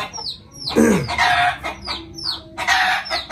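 Darag hen clucking in a series of short, close calls with rising squawks, the sound of a freshly brought-in native Philippine hen near her nest, several bursts in quick succession with no talk.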